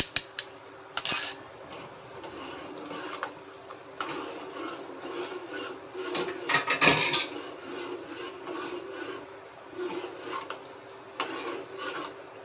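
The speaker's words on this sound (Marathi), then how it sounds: "आता आपण जे कस्टर्ड पावडर मिक्स केलेलं आहे दुधामध्ये मिक्स करूया।" Custard powder is stirred into hot milk in a pot with a spoon, scraping and rubbing against the metal in soft repeated strokes, with a few louder clinks and rattles, and no talking.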